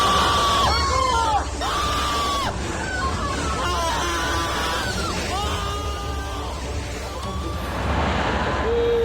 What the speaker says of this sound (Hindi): चीख पुकार आप सुन पा रहे थे।